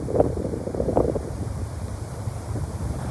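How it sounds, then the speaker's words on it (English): Strong wind gusting across an exposed rocky ledge near the summit of Mount Greylock, a steady broadband roar with heavier buffeting bursts near the start, close and loud with no voices. "It's very windy, almost cold."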